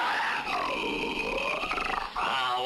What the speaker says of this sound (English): Please don't roar at me. What did the lion do wrong, Jimmy?